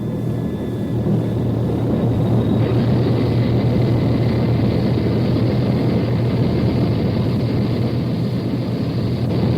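Aircraft engines roar steadily at full power for a takeoff run in a radio drama sound effect, a loud continuous drone with no pauses and no voices.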